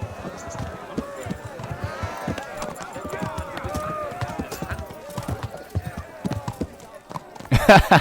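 A horse rides off in the medieval video game Kingdom Come Deliverance, its hooves clip-clopping in a steady rhythm under game dialogue and music, ending in a louder burst of noise.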